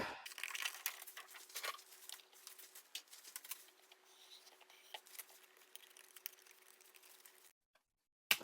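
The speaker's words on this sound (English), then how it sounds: "These are like kid scissors, but hopefully they'll work." Small children's scissors snipping through paper in a woodturning workshop, giving quiet, irregular crisp cuts and rustles that stop abruptly near the end.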